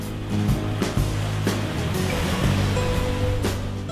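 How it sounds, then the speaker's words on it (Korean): Steady rushing surf of ocean waves on a long sandy beach at Imjado island, Sinan, South Korea, fills the scene, with a continuous wash and a few tonal hums mixed in. "가도 끝이 없는 백사장을 오가는 파도 소리"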